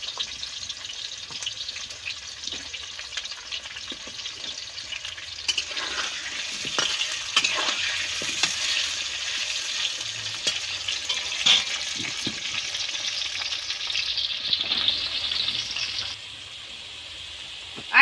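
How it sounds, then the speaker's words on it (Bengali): Potato pieces deep frying in hot oil for a mutton curry make a steady, close, hissing sizzle, with occasional clinks of stirring. The sizzle drops quieter near the end. "আলুগুলো তো মোটামুটি ডিপ ফ্রাই করে ভাজা হয়ে গেছে"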